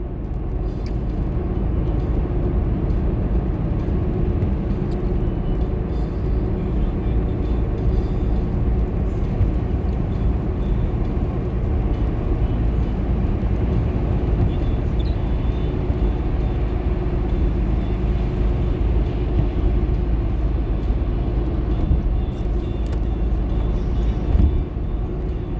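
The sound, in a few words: road traffic heard while driving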